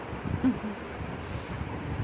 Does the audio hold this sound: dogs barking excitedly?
no